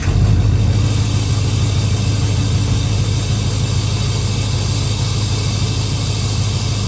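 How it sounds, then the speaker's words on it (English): A modified truck engine idles loudly and steadily after its first start, a deep rumble with a fast, even pulse that holds unchanged throughout, close by and without talking. "I can't wait any longer to hear this first start."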